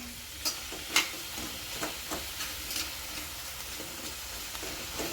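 Roselle greens, kardi bhaji, dry-sautéed with masala in a pan, producing a soft, low sizzle broken by scattered spoon scrapes and taps, close but fairly quiet, no speech.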